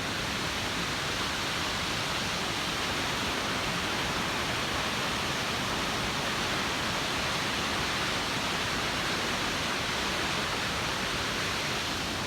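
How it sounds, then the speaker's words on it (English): Waterfall on the Pine Creek trail in Southwest Montana, a steady, dense roar of falling water that holds unchanged throughout with no voices. "There's the waterfall right there in the background."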